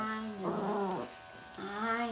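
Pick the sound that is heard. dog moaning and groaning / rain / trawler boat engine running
dog moaning and groaning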